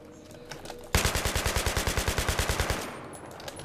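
A rapid burst of automatic gunfire in a video game, about two dozen evenly spaced shots in a couple of seconds, loud and close, ending abruptly.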